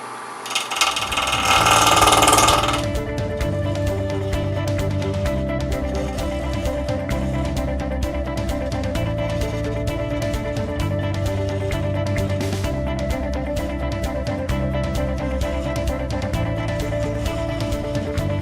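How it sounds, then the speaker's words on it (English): A wood lathe spins a cherry burl while a small bowl gouge shapes it, giving a steady mechanical drone with a brief louder burst of cutting at the start, then an even, continuous hum. "I'm going to use a small bowl gouge, and we're going to start shaping this a little bit."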